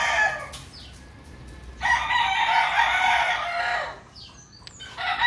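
A rooster crows loudly nearby, one long drawn-out call after a shorter opening cry, with faint clucking around it.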